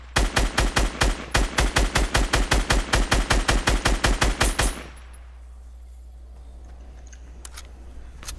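Rapid automatic gunfire in a video game: one loud, sustained burst of evenly spaced shots lasts about five seconds, then cuts to near silence with a few faint clicks.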